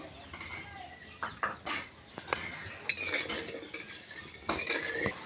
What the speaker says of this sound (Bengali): কড়াতে দিয়ে দিচ্ছি আমি পরিমাণ মতো জল আর দিয়ে দিচ্ছি পরিমাণ মতো চিনি